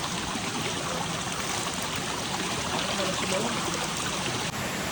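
Water of a small stream near the Devkund waterfall rushes and trickles in a steady, close wash of sound while someone washes their face, with no distinct breaks.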